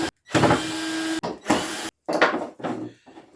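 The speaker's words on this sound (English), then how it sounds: "back these screws out" A power drill backs screws out of a handmade wooden gift piece in a few loud, close whirring bursts separated by short pauses, the first burst long and steady, the rest shorter and rising.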